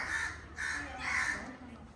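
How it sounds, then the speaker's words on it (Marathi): A crow caws three times in steady succession near a Konkan coastal fort by the sea, each call harsh and fairly close, with faint background murmur between calls. "तुम्हाला बघून कावळं वरडायला लागलं."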